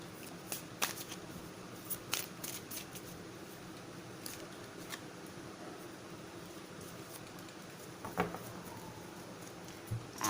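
Tarot and Osho Zen cards are shuffled by hand in a quiet room, making soft, continuous papery riffling and slapping with scattered sharper flicks throughout.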